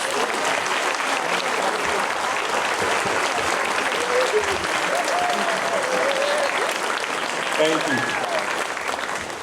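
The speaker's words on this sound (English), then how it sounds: "Please, can you give them a round of applause?" Current and former board members are applauded by a crowd at a supper program, steady sustained clapping throughout with voices and a brief spoken thanks over it.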